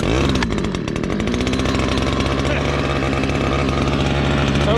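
A Husqvarna string trimmer with a carburetor never adjusted catches on the pull and keeps running. A loud, buzzing two-stroke engine holds a steady high idle close by, with no talk over it.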